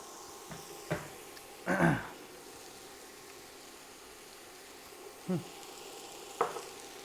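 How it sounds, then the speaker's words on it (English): Onions frying in a pan for tacos, a steady low sizzle under a few louder scrapes and stirs, with two bursts near the start and two shorter ones later, no talking. "Onions are starting to get caramelized, but they're not getting burned yet. That's why I keep moving them."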